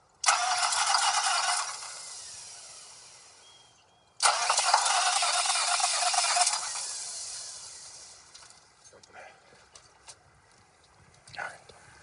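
Cold start of a Detroit Diesel 6V92 engine: two long, loud bursts of rushing, cranking roar separated by a short gap, then a quieter rumbling tail with a few scattered knocks.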